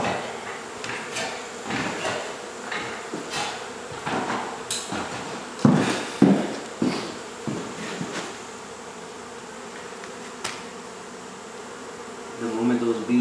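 Honey bees swarming indoors during a bee removal in Mission, Texas, a steady low buzz running throughout, broken by a few sharp knocks and clatters of tools nearby.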